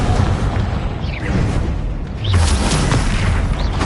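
A Confringo fire spell explodes in the Hogwarts Legacy video game, deep rumbling booms with crackling bursts and a whooshing swell midway, loud and continuous.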